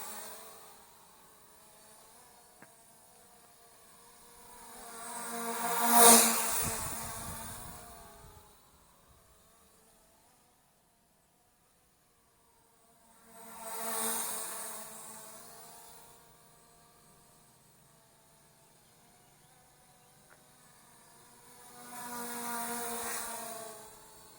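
A ZLRC Beast CSJ X7 drone flies past three times, its buzzing propeller whine swelling loud as it comes close, then fading nearly to silence between passes.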